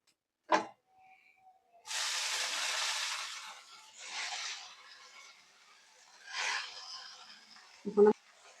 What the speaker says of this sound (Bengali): রসুনটা ভাজা হয়ে গেছে, এখন আমি দিয়ে দেবো এখানে শাক